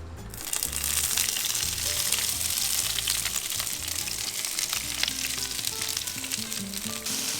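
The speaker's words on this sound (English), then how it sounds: "I'm gonna go in with some olive oil in the cast iron" Peppers and onions fry in olive oil in a cast iron pan with a loud, dense, continuous sizzle and crackle, close and steady throughout, with no voices over it.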